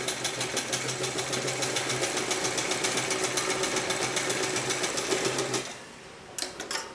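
A sewing machine stitches a dhoti salwar in a fast, even, rattling run for several seconds close up, then stops abruptly, leaving a few faint clicks.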